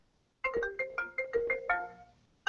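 Default phone ringtone playing a bright, rhythmic run of repeated synthetic tones for about two seconds, clear and close with no talk.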